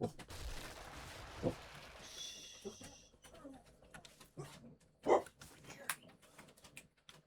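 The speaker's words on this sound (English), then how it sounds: "Sorry for my dogs barking in the background" Pet dogs bark in the background of a home, several short sharp barks scattered through the clip with one louder burst near the end, over quiet room noise and faint talk.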